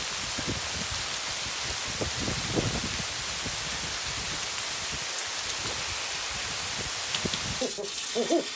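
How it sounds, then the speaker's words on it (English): Steady rain falls on a wet holiday Monday in Great Britain, a constant broad hiss with scattered drips and knocks nearby, and faint sounds near the end. "It's wet, it's raining, isn't it?"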